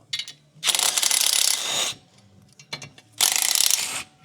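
Small 10 mm bolts being worked out of a car clutch pressure plate, with two long bursts of close, loud metallic ratcheting and rattling separated by quieter clinks and handling sounds.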